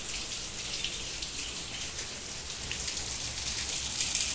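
Steady rain falling outside a house entrance, a dense even patter on surfaces with scattered drips, moderately close and continuous with no talk.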